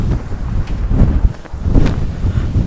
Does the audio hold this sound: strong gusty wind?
yes